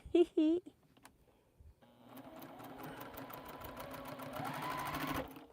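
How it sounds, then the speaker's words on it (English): A sewing machine joins quilt pieces with a steady, rapid clatter of stitching that starts after a short spoken remark and continues to the end. The stitching sounds moderately close. "Now we can sew that together with all of my little extra drawn lines"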